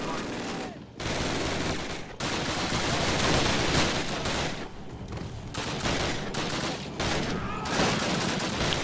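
Rapid submachine gun bursts in the 2003 game Call of Duty, dense and loud with brief pauses between volleys, with a voice talking over the shooting.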